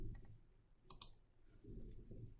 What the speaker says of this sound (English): let's click New Form by clicking the drop-down arrow icon